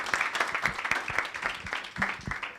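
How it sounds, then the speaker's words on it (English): An audience at a 2022 Global Digital Compact conference in Nairobi, Kenya, gives a short round of applause, a moderate patter of clapping hands heard fairly quietly from across the room. "A round of applause for him."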